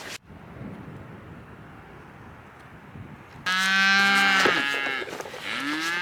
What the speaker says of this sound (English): So just had to take a little detour because of the cows in here.